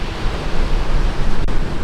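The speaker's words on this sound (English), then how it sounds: "quite windy day. It's about 20 mile/hour wind thereabouts" Steady, loud rush of wind at about 20 mph buffeting outdoors at the seaside with a roaring surf-like wash underneath, continuous and close, no voices.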